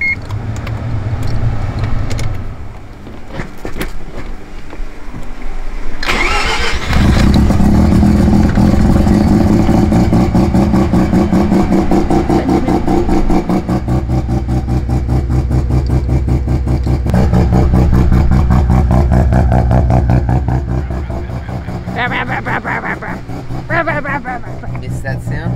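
A Mazda RX-7 rotary engine cranks and catches, then revs loudly and steadily up close, with rising and falling roars and some rattling clatter.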